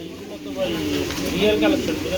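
Pigeons cooing at a busy pigeon market, soft rolling coos close by over a murmur of background noise and market chatter.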